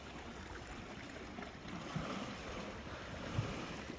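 Sea waves wash below a cycle bridge over the sea on a freezing day, heard as a faint, steady, distant surge mixed with wind buffeting the microphone.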